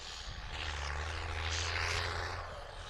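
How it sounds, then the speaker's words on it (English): A Delta CRJ 900 regional jet at a busy cargo airport produces a steady low engine drone with a broad rushing roar that swells and fades, heard from a distance with no talk. "That'll be Delta Endeavor 5096 to JFK, another CRJ 900."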